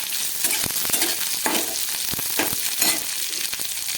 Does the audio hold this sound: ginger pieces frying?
yes